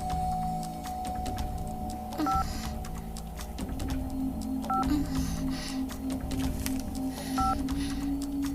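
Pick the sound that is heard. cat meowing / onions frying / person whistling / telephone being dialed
telephone being dialed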